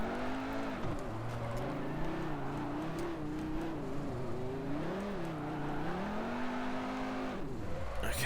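A front-wheel-drive car attempting a drift, its engine revving hard and steadily with the pitch rising and falling through the throttle work. The sound is loud and continuous, with no talk over it.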